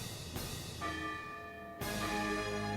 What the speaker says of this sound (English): Bells pealed throughout the town as Cinderella was welcomed back to the castle.